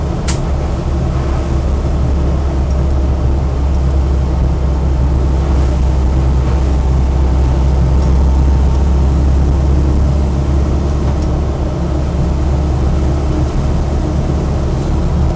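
A Land Rover Series III 88in hardtop drives along with a loud, steady engine and drivetrain drone and cabin rumble. It holds constant for the whole stretch, with no speech over it.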